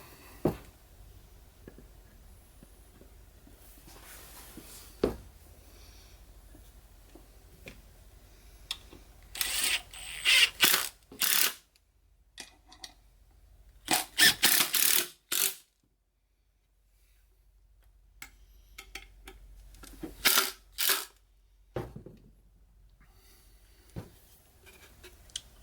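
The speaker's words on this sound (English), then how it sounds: "I'm just going to get this started, and then we'll screw it in place." Construction screws, 2-inch, being driven into wood for a wooden deer head, in several short loud bursts from a power driver separated by quiet pauses and faint handling noise.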